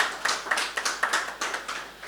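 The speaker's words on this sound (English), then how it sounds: "Please, a round of applause" A short burst of light, sparse clapping, a few hands tapping out quick irregular claps, fairly faint.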